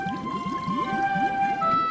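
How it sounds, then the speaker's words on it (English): Giant whale calls in a deep ocean scene from a children's cartoon story: a steady run of low, repeating swooping pulses under sustained high drawn-out tones, continuous and moderately loud throughout. "Giant whales"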